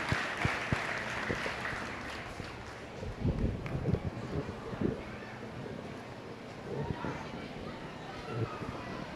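Applause from a cattle show crowd in an arena after a beef heifer class, a fairly faint, diffuse patter with a few louder claps, mixed with a voice and background noise.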